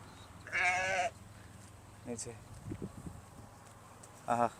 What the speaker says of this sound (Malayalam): ആതിരക്ക് പിന്നെ ആടെന്ന് പറഞ്ഞാല് ഭയങ്കര ഇഷ്ടമുള്ള കാര്യമാണ്